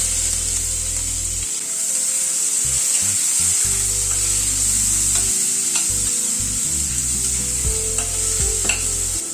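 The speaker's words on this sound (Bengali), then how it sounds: "পেঁয়াজটা দিয়ে প্রথমে পেঁয়াজটাকে হালকা করে ভেজে নেব।" Chopped onions, about two, fry over a low flame in a pan, a continuous close hiss and sizzle broken by occasional stirring scrapes and light knocks, steady and fairly loud with no voices.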